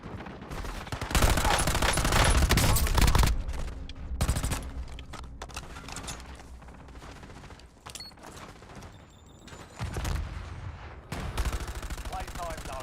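Gunfire in a shooting video game: loud, dense bursts of rapid shots in several clusters, with quieter gaps between the volleys and a voice occasionally heard.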